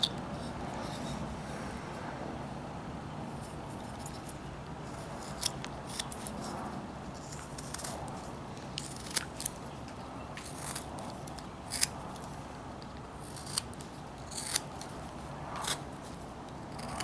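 A knife whittles a wooden hobo burro carving, making repeated short scraping and slicing cuts up close. The cuts come in uneven bursts over a steady low background.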